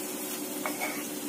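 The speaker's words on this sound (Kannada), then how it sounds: "ಮತ್ತೆ ಶುಂಠಿ ನೋಡಿ ಈ ತರ ಫ್ರೈ ಮಾಡ್ಕೋಬೇಕಾಗುತ್ತೆ" Ginger frying in a pan for mushroom sambar, a steady close hiss of sizzling oil with a faint stir or two, no talk.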